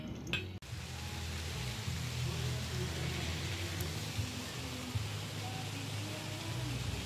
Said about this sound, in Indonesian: Nih, hujan kan? Masih ya.